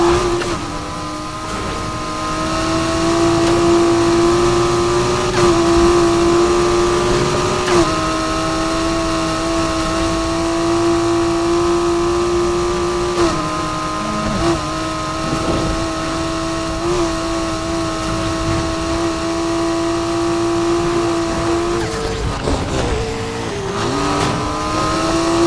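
Mazda Miata racing in Need for Speed Heat, its engine droning steadily at high revs with loud, sustained tone, shifting pitch through gear changes and a brief dip near the end, no talk over it.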